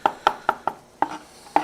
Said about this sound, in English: We kind of want to get this chopped up because you don't want no big chunk of garlic